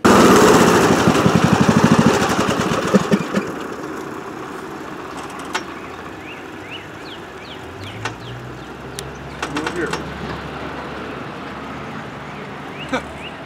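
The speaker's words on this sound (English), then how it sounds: "the blade on the right kept spinning freely" A John Deere D105 riding mower engine runs loudly, then winds down and cuts off, leaving a quieter whirring tail of a blade still spinning freely, with birds chirping and a few clicks outdoors.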